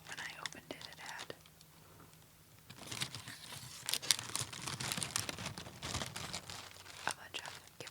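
Gift paper crinkling and rustling inside a gift bag, close and soft, starting sparse and turning into denser, continuous crackling in the second half, under faint breathy sounds.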